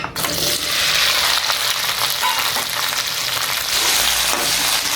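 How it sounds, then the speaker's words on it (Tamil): Okra sizzles steadily in refined oil in a pan, a dense continuous frying crackle that stays loud and close throughout, with no voices. "இப்போ இதிலே வந்து நம்ம வெண்டைக்காய் மட்டும் போட்டு வதக்க போகிறோம்."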